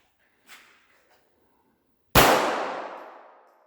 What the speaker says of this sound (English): So draw and fire 1 round to the head.